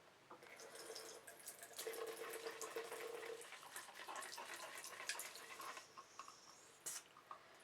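Water is trickled from a tap to rinse a Sigma brush cleaning glove during makeup brush washing, a faint, steady splashing and running flow with small drips and squishes.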